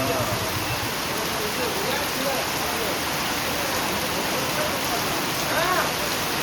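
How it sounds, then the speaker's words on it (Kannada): Heavy rain pours steadily onto surfaces during a flood in Sringeri, a dense, constant hiss with brief faint tonal sounds over it. "ಗೈಸ್ ಮಳೆ ಯಾವ ರೀತಿ ಇದೆ, ಸುರಿತಿದೆ ಅಂತ ಹೇಳಿ."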